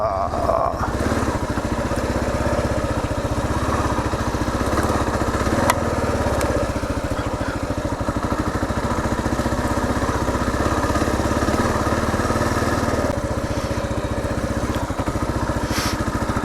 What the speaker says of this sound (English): Some guy on a dirt bike or an experienced rider just come hauling ass through here.